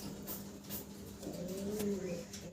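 Dauka pigeons cooing at close range, soft low throaty coos rising and falling over a faint background hum, with no talking.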